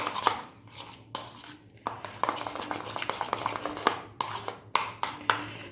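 Chipotle and garlic dips are stirred together in a bowl with a spoon, giving repeated close scraping and clinking strokes in an uneven rhythm, with short pauses between bursts.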